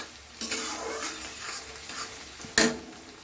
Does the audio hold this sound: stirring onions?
yes